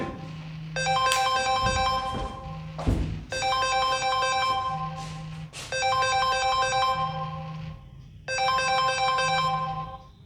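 A melodic phone ringtone plays in repeated bursts of tinkling tones, four cycles with brief pauses between them, loud and close with no talking.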